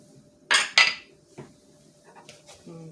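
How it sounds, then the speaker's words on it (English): Olives tossed into a pan of Moroccan tagine-style ground beef land in two quick, loud clattering bursts, followed by a few softer clinks and scrapes of utensils against the pan. "we're going to go ahead and throw in our olives at this point"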